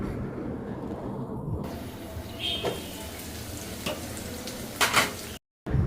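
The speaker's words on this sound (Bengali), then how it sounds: "এই যে চিকেন বটি কাবাবগুলো কিন্তু অলমোস্ট হয়ে গিয়েছে যখন একদম ভাজা ভাজা হয়ে যাবে" Chicken boti kebabs fry in a pan with a steady, crackling sizzle, broken by a few clinks and scrapes of utensils against the cookware and a short silent gap near the end.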